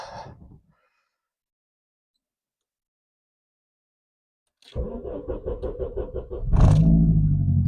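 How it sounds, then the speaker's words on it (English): An Opel Corsa B turbo engine cranks in a quick rhythmic chug after a stretch of silence, then catches and fires into a loud, close idle rumble. "Alright, let's see if she starts her."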